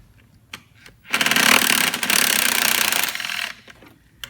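A ratchet on an extension is worked from the back side to remove a heat shield on a Buick during purge valve replacement, giving one loud burst of rapid clicking of about two seconds between quieter handling sounds.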